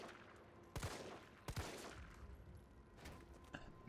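Gunfire in the Resident Evil 3 Remake demo: a few sharp, heavy shots spaced about a second apart over a low, rumbling game background.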